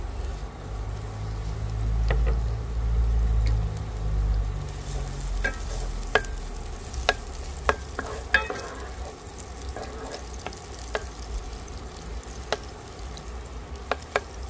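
Garlic, onion and hot pepper hit hot oil in a deeper frying pan with a loud burst of sizzling, which settles into a softer crackle broken by sharp clicks of a spatula stirring.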